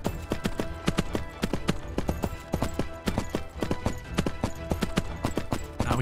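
Rapid, rhythmic hoofbeats of a galloping horse in the video game Three Kingdoms Zhao Yun, steady and close, with a faint musical or ambient bed underneath and no talking.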